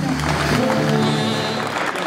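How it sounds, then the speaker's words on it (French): Audience applause for the race marshals at the Critérium Jean Rolland cycling race in St André les Alpes, a steady wash of clapping lasting the whole moment, with voices carrying over it. "qu'on leur fasse un applaudissement"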